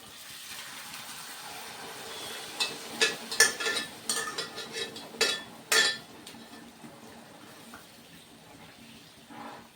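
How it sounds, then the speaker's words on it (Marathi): A spoon stirring and scraping dal and spinach in a pot, with a cluster of clinks and scrapes in the middle and quieter cooking hiss throughout. "आता हे फक्त मिक्स करून घेऊया"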